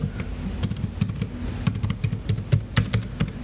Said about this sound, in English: The keyboard has a really nice and solid click, so there is a decent travel